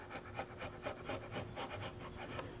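A wide blade pares and flattens the floor of an inlay recess about 1/16 inch deep in a wooden front leg, producing a steady series of close, short scraping strokes in an even rhythm with no talking.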